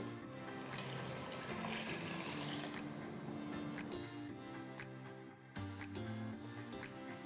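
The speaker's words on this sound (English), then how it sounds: "I'm going to add another 1/2 cup of water" Water poured into a cup of diluted coconut milk while cooking mushroom biryani, a steady liquid filling and splashing sound lasting several seconds, close and fairly loud, with a kitchen hum beneath.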